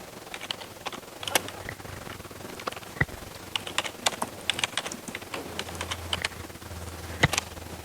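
Someone types on a computer keyboard in a classroom, making quiet, irregular clicks and taps in loose bursts. The keys sound close and are the only sound apart from a faint low room hum.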